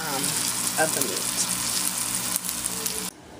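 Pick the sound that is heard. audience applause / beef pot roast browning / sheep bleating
beef pot roast browning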